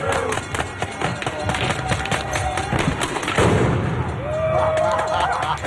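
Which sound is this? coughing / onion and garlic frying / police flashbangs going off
police flashbangs going off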